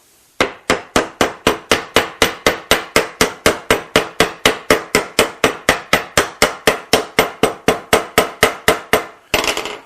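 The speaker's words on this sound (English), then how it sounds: "we'll just hammer the two together, right like this" Rapid, steady series of loud, sharp hammer blows, about three per second, driving a glued wooden dovetail joint together, close and alone with no talk.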